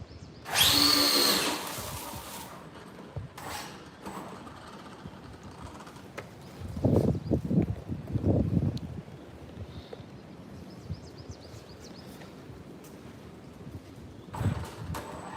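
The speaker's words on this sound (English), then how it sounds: "Launch control with full throttle." A Traxxas Drag Slash RC car launching at full throttle under launch control: a sharp high electric whine burst at the start, later rough bursts of tyre and motor noise, and another quick burst near the end.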